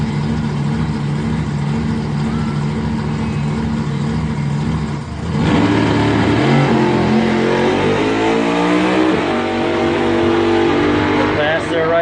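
A 1963 Pontiac Le Mans doorslammer drag car with a 540 Keith Black Oldsmobile engine roars down the strip, loud engine noise building sharply midway, with an announcer talking over it.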